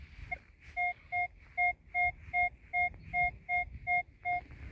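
A metal detector sweeping a grassy meadow in Czechia gives a repeating electronic signal tone, about a dozen evenly spaced short beeps at a steady rhythm over faint background rustle, with no voices.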